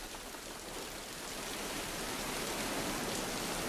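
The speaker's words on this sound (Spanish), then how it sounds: "Pero la fuerte lluvia y el viento los vuelve a sorprender." Heavy rain and wind in pine woods near marshland, a dense, steady roar of rainfall that grows slightly louder over several seconds, with no voices.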